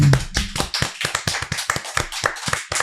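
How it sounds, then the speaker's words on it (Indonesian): Quick, uneven hand claps from a small audience at a high school podcast recording, with sharp close claps filling the short burst before it stops. "Oke, tepuk tangan."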